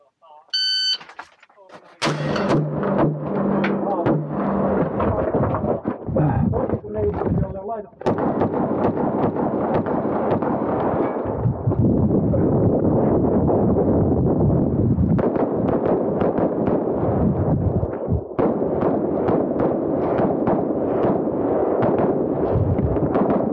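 Gunshots at a reservist practical shooting competition, loud sharp reports fired in rapid strings with brief pauses over several seconds, preceded by a short command voice at the start.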